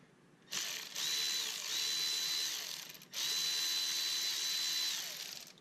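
A power tool zips out timing cover bolts on a pit bike engine during a head gasket repair: two close whirring bursts, each spinning up and winding down, separated by a brief pause.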